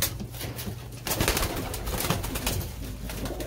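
Racing pigeons coo inside a loft, low repeated cooing calls close by and moderately loud over a steady background murmur, with no talk.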